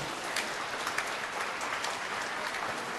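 A church congregation at a Mass claps loudly, producing a steady, dense roar of many hands that stays even and sustained throughout, with no voices standing out.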